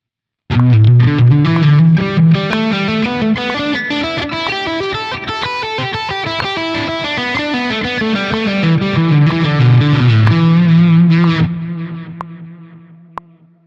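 Distorted electric guitar plays blues pentatonic triplet licks at a slow 62 tempo, a loud continuous stream of rolling notes lasting about eleven seconds before a final held note rings out and fades.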